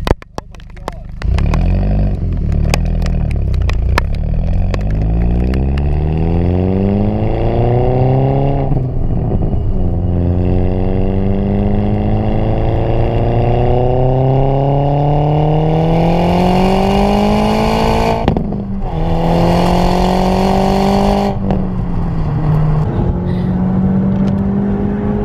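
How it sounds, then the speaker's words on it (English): A Cupra car's engine revs up repeatedly, recorded right at the exhaust, pitch climbing steadily through long pulls with brief drops between, loud and close. "I'm gonna do an exhaust clip."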